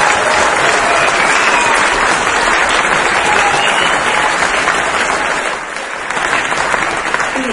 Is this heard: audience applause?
yes